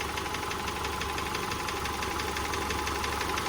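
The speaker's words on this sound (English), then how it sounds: "the engine knock on these particular Subaru engines, and they bang away" A Subaru engine runs steadily with a rapid rhythmic knocking and banging over its idle hum, close and continuous throughout.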